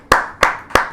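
Three sharp, evenly spaced claps ring out at a Hindi poetry gathering as a poet is welcomed, each one near and distinct with a short room decay.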